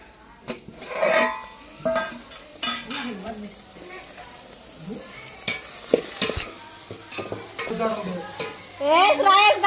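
Green chillies fry in a tempering and get stirred in a pan, with sharp sputtering and clanking of a metal spoon against the pan, close, while people talk intermittently over it.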